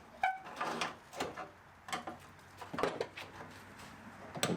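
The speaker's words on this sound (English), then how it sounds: "we'll pry it off of here with our breaker slash dolly slash pry bar" Sheet metal pried and banged loose from a Mustang GT parts car with a combination body dolly and pry bar, giving repeated sharp metallic clanks and scrapes at close range, with short pauses between strikes.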